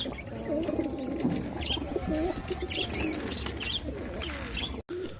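Pigeons in a loft coo steadily in a low, murmuring chorus, many birds overlapping up close, with occasional chirps and light rustling throughout.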